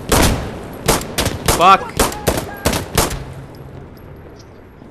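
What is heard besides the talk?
gunfire from the video game Insurgency: Sandstorm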